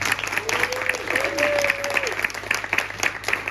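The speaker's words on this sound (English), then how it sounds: "give them a big round of applause, please." An audience claps through a steady round of applause at a comedy hypnotist show on the Grand Pier in Weston-super-Mare, with a voice briefly calling out over the clapping.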